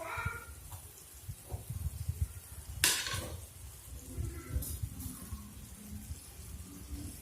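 Puri frying and puffing up in hot oil, a soft bubbling sizzle with scattered crackles and a brief sharper spatter burst, close and moderate in level.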